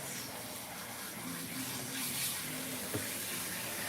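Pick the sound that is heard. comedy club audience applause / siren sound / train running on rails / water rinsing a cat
water rinsing a cat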